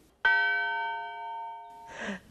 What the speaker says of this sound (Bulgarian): И затова викам, камбаната се бие.